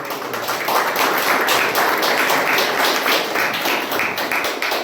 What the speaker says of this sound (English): I would like to hear a round of applause for the speaker.